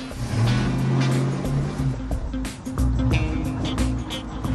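A car drives a giant slalom course at a steady 30 km/h on a driving test track, its engine humming loud and close with shifting pitch and tyre and road noise, and no talk over it.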